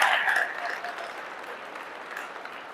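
An audience claps loudly together, a burst of dense applause that starts strong and gradually thins and softens over a few seconds.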